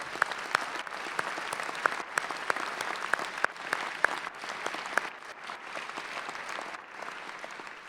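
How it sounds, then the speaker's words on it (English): A large audience at a university graduate commencement ceremony gives a sustained round of applause, a dense, even wash of clapping heard from a distance that thins slightly toward the end. "Let's give all of you a round of applause."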